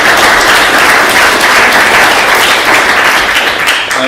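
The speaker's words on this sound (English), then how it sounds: "Let's give him a round of applause." A crowd applauds steadily, a dense wash of clapping at full volume that holds for several seconds before easing slightly at the end.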